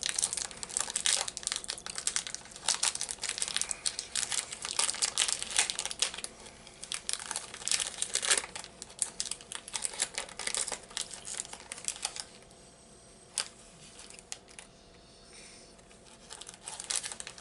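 A Greek snack package from a subscription box is torn and crinkled open by hand, its dense plastic crackling and rustling steadily and loud and close, easing into quieter scattered crinkles toward the end.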